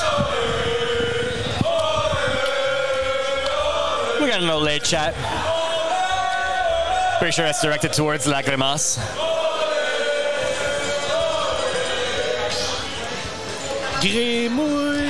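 A crowd cheers at a Super Smash Bros. Ultimate grand finals doubles match, with bursts of loud shouting and roaring. Commentators talk excitedly over the noise almost throughout.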